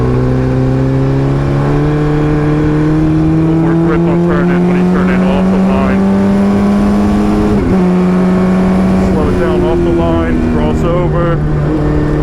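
A race car's engine drones and shifts pitch from the driver's seat on a cold, slippery, rain-soaked track at Summit Point Raceway, rising and falling through gears, loud and close, with the driver talking over it.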